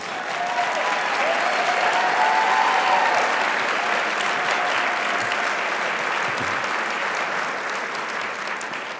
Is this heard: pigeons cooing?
no